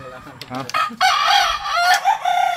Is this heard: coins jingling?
no